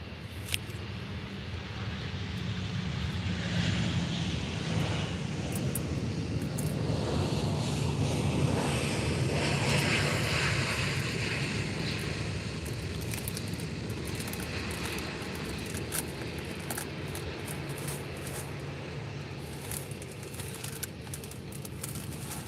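A Transavia airliner from Paris Orly rumbles at Faro Airport, a broad sustained roar heard from a distance that swells and then slowly fades, with wind or surf-like noise mixed in.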